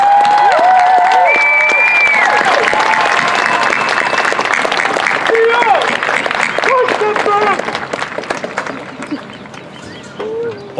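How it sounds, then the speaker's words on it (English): Loud, sustained applause and cheering from parents at a 2021 middle school graduation ceremony, with whistles and shouts over dense clapping that thins and fades toward the end. "Parents, help me give them a big round of applause."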